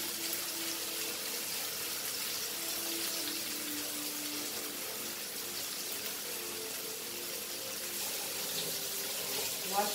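Fresh coriander rinsed under a running kitchen tap, a steady, even rush of water hissing into the sink throughout, moderately quiet.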